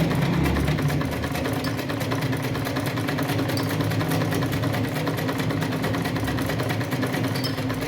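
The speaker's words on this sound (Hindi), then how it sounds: "अब इधर से सिलाई शुरू की है" A sewing machine runs continuously while stitching fabric, a steady rapid mechanical whir and needle clatter with an even hum, close and unbroken from start to finish, no voices over it.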